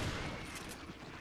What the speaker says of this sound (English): Good thing I have a shotgun.